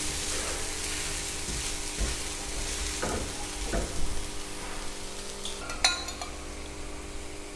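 Ragi dosa roasting in oil on a hot pan gives a steady soft sizzle and frying crackle throughout, with a few light utensil scrapes and clinks along the way and no talking.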